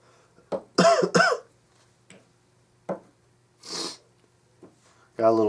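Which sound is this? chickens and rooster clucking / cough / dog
cough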